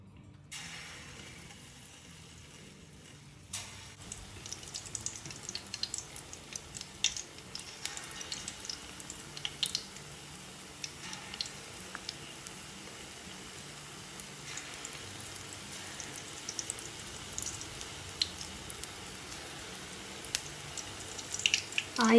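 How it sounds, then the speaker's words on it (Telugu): Small dollops of challa punugulu batter hit hot oil and deep-fry, giving a soft, steady crackle and sizzle dotted with sharper pops that grow denser over time. "ఆయిల్ వేడయ్యాక ఇప్పుడు మనం చిన్న చిన్న పునుగుల్లాగా వేసుకోవాలి"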